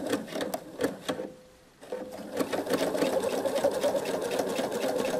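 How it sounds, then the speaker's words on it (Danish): Sewing machine stitching fabric along the edge of a trouser leg, a steady rapid mechanical whir that briefly pauses and then resumes continuously, close and moderately loud. "Men nu her har jeg så mulighed for at dreje og sy sideværs."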